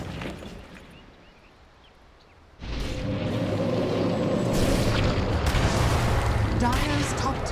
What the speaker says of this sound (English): Dire's top tower is fallen.